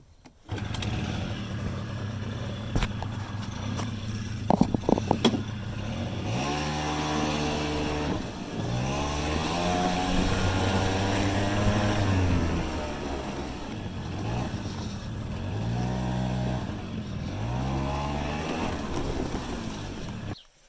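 A scooter engine with a fault, running rough and misfiring, starts with a few sharp pulls, then runs continuously, its revs rising and falling in repeated surges, loud and close.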